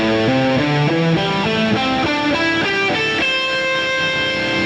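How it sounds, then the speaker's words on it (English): Electric guitar through heavy distortion climbing a minor pentatonic scale with no muting, each note ringing on over the next to build a loud, smeared wash of sustained tones, played alone with no talking. "if I kick on a really heavy distortion and I just play up a minor pentatonic scale without any muting"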